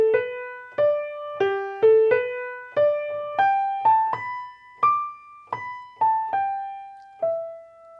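Solo piano plays a melody alone, a clear single-note line of about a dozen evenly spaced struck notes in waltz rhythm, each ringing and decaying, with no voice.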